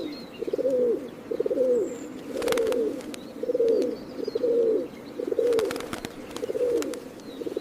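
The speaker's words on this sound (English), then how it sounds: "More than 500 bird species call this place home" Repeated cooing calls of wild doves or pigeons in a habitat home to hundreds of bird species, steady phrases roughly every second over a soft outdoor background, with occasional brief sharp clicks.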